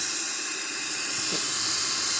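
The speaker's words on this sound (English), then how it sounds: "We're gonna start the left engine first." Boeing 777 left engine starting up in a flight simulator game, a steady broadband hiss with a faint rising whine toward the end, continuous and fairly loud throughout.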